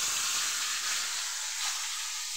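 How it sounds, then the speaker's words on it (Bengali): Fish frying in a pan in a home kitchen, a steady broad sizzle that stays loud and close throughout with no talking. "তো প্রথমে মাছটা ভেজে নেব।"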